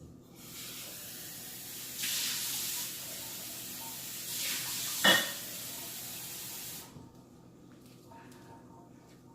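Water is poured over chicken sitting in marinade, a steady broadband hiss and splash that swells at about two seconds, holds with a brief sharp spatter near five seconds, then tails off into quiet room tone.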